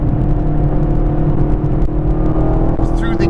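A 2017 Chevrolet Camaro SS 1LE accelerating, a loud, steady, deep engine drone with a smooth even pull, heard from inside the car.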